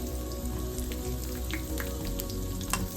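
Garlic and green chillies fry in a couple of spoons of oil in a pan, giving a steady, close sizzle with faint crackles and no talking.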